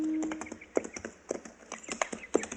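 Riders on mules approach in a radio drama effect, hooves clip-clopping in an uneven, steady rhythm at close range, with a brief whinny-like tone at the start and no talk.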